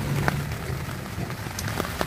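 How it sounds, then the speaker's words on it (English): Rain beats steadily on a thin French military surplus F1 pup tent, a dense close patter of drops on the fabric with a few sharper taps, heard from inside with no talking. "you can actually see all the rain on the outside beating up"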